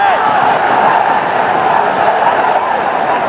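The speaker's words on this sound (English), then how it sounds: "Let's listen to the crowd." A cricket stadium crowd at a Pakistan vs Bangladesh T20 international, a dense steady roar of cheering that holds loud and unbroken throughout.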